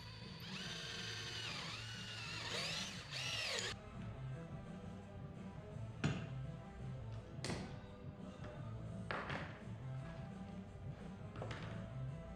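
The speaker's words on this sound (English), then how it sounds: "you simply drill a hole which will be perfectly in the center of the board" A drill fitted with a collet bores a centered dowel hole into a reclaimed wood board for an industrial coffee table, a fairly quiet steady whine broken by a few sharp taps and thumps, with no talk.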